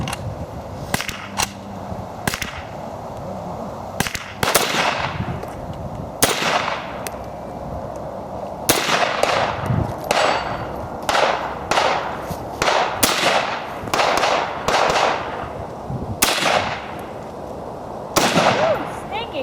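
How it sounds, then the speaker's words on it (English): A WWII-era US M1 carbine rifle fired at an outdoor range, a long series of sharp, loud single shots spaced a second or two apart, sometimes quicker, with people talking in between. "All right, so we're gonna shoot Jonny's carbine"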